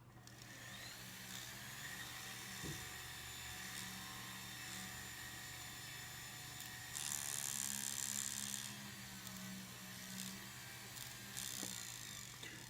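A small rotary drill whines steadily against a low hum while boring a hole in a prayer bead, rising to a harsher, louder grinding burst partway through as it bites into the material.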